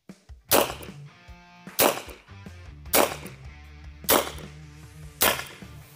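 An Evanix Viper semi-automatic .25 air pistol fires shots at a wooden target, five sharp cracks spaced about a second apart, each followed by a short ringing decay.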